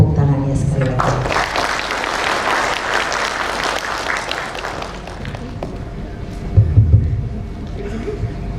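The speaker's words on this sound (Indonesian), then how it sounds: "silahkan kepada Warto, mohon tepuk tangannya sekali lagi." An audience at a capping day ceremony claps in a loud, dense burst that fades to scattered clapping, with a voice over a loudspeaker talking before and after.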